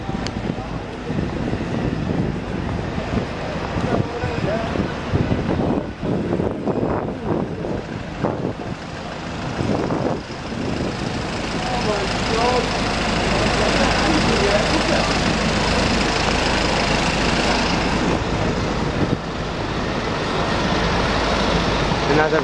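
An Alexander ALX400 double-decker bus engine rumbles loudly and steadily nearby on a street in Torquay, a continuous low growl mixed with wind buffeting the microphone.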